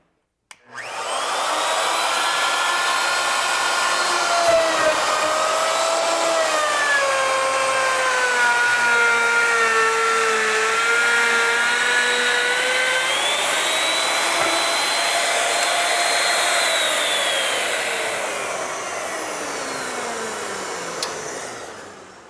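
A plunge router cuts a stop dado into a panel on a panel saw and router combination machine, with a loud, steady high-pitched whine that holds for about twenty seconds, its pitch wavering as the bit works, then easing off at the end.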